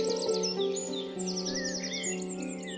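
A cartoon bird in Peter and the Wolf chirps and twitters in quick high trills over a sustained orchestral backing, bright and continuous.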